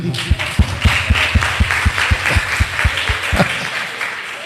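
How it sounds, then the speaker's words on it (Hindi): Audience in a church or sermon setting clapping in a steady rhythmic beat, roughly a dozen evenly spaced claps close and loud over a noisy room background. "माली इनके लिए बजा दो ताली"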